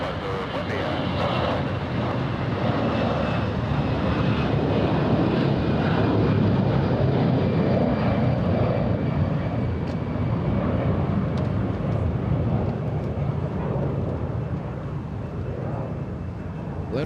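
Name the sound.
Avianca jet airliner departing LAX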